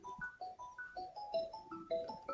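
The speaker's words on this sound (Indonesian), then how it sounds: "Sebentar ada telepon." A phone ringtone plays an incoming-call melody of repeated bright beeping tones, fairly quiet and with no voices over it, as in a live online lecture.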